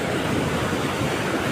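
Floodwater rushes with heavy force through a wall broken by the pressure near Ghod river dam at Shirur, a dense, loud, unbroken roar with no voices.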